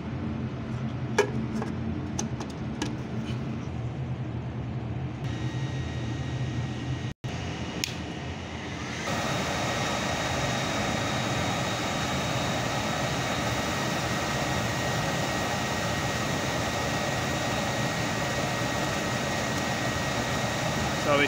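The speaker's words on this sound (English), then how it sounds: "the control box is going through its firing sequence." A Nu-Way NDFL13 dual-fuel burner running on gas goes through its control-box firing sequence: a few soft ticks and clicks over a low hum, then a steady, loud combustion roar that starts partway through and carries on.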